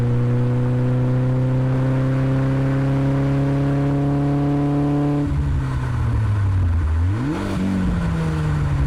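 An E30 BMW M3 accelerates hard, its engine note climbing steadily and loudly, then dropping sharply at a gear change before rising again.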